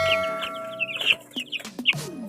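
Young chicks and a mother hen on a farm, the chicks recovering from fowl pox, give soft clucks mixed with high peeping chirps in an irregular, close-up run with no talking.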